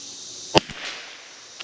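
Sharp, faint cracks from a CZ 457 rifle fitted with a Timney trigger, one distinct shot followed by a softer echo and another small crack near the end, heard alone without talk.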